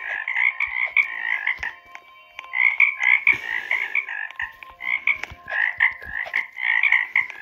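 Frogs croak in rapid rattling bursts, several overlapping callers repeating trills in an irregular rhythm, fairly close and loud, with small clicks and knocks between calls.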